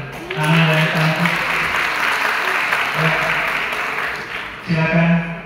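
An audience at an education seminar applauds a student with steady, dense clapping, while a voice speaks over it at the start, again briefly in the middle, and near the end.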